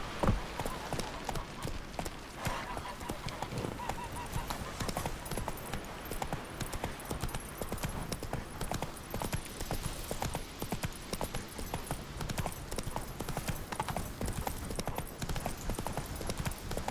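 Horse hooves clip-clopping steadily in The Witcher 3 on PC, a continuous even rhythm of hoofbeats over a dense in-game ambient bed, with no talk.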